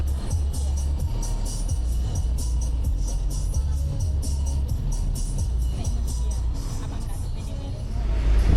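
Shared microlet minibuses and other traffic on a busy street in Dili, a steady loud rumble of engines with passing vehicles and a swell of acceleration near the end, with voices in the background.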